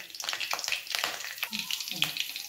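Curry leaves sizzle and crackle in hot oil in a pan, a steady close frying hiss with scattered pops throughout the short stretch.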